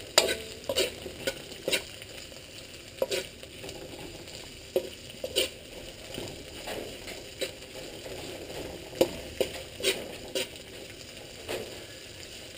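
Onions stir-fry in a wok that is about twenty years old, with a constant sizzle under repeated sharp scrapes and clacks from a utensil at an uneven pace, close by and with no voices.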